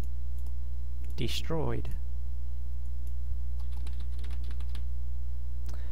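Computer keyboard keys clicked in short bursts of typing under a steady electrical hum, with one brief spoken word partway through.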